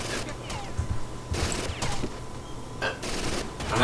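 Bursts of gunfire in Rainbow Six Vegas 2 play out as rapid clattering volleys spread across several seconds, with a player talking between and over the shots.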